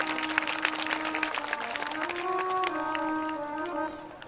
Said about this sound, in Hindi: एक बार जोरदार तालियों से संतों का